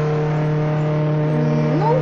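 Engine drone of a car in the Roblox game Jailbreak: a sustained steady hum whose pitch sweeps upward near the end as it revs, loud and close, with no talking.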